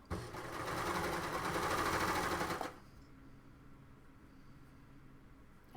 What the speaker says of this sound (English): I'm going to put sleeve side down and stitch in